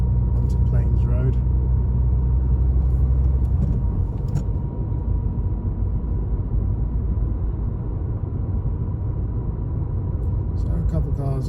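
A car accelerates along a residential road on a driving test route, its engine rumble steady and close inside the cabin, while the driver talks over it.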